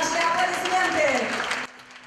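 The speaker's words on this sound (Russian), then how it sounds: "Наши аплодисменты! Семье Унгер!" Applause for the Unger family, a family from Altai honoured in a national family-of-the-year contest: crowd clapping mixed with a voice talking over it, cutting off sharply near the end.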